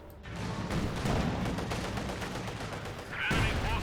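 MG34 machine gun fire in the strategy game Company of Heroes 2, with loud, dense bursts of gunfire and explosions in a continuous battle din.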